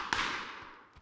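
One sharp gunshot cracks out in PUBG, followed by a long echoing tail that fades slowly. A fainter thud comes near the end.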